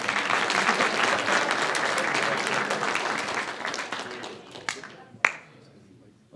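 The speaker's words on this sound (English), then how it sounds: "I think we should all give a bigger round of applause to Sir Bloomquist," Audience at a military speech competition gives a full round of applause, dense steady clapping that thins out and tapers to a few last scattered claps before stopping.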